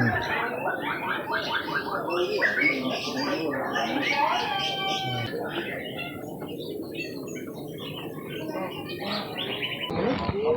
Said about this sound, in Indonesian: Jenis-jenis burungnya macam-macam ya,